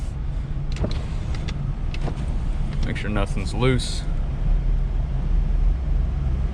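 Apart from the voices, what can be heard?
pickup truck driving on road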